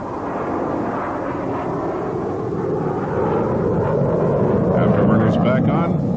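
An F-15 Eagle jet flies knife-edge passes at an air display with its landing gear extended, a loud, rumbling engine roar that swells slightly toward the end, heard from a distance outdoors.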